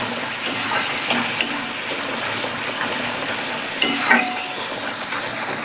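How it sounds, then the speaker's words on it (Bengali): Eggplant cooking with yogurt, salt and spices in a pan, stirred with a steady scraping and soft continuous sizzle, a couple of sharper clinks of the spoon against the pan, close and alone without talk. "আর একটু নেড়ে চেড়ে দেবো।"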